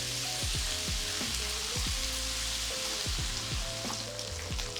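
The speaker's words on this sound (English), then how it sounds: "Just let it sear." Beef mince sears undisturbed in a hot pan, giving a loud, steady crackling sizzle that runs throughout, with tonal sliding sounds from something else layered underneath.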